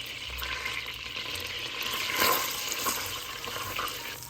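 Butter browning in a pan over medium-high heat gives a steady, close sizzle and crackle with a swell of bubbling near the middle. No one speaks.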